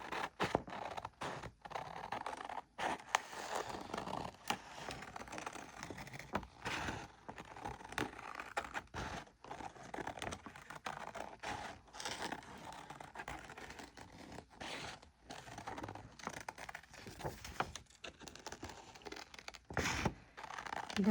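Scissors snip and paper crinkles while a paper heart is cut out for a gluebook, with irregular close crisp cuts and rustles broken by short pauses, fairly faint.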